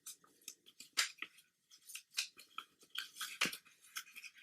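Origami paper folded along a crease line while making a paper Mosin Nagant sniper rifle, heard as quiet, close crinkles and crisp rustling taps in an irregular series.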